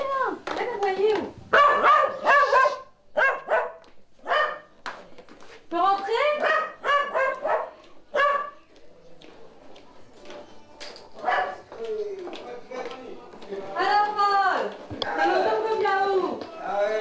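A small dog barks and yips in bursts of sharp, close calls, with softer whimpering whines between them, heard over roughly seventeen seconds.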